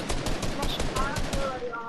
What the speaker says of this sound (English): He's trying to shoot at me.